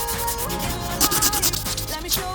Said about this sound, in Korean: 사포질 시작.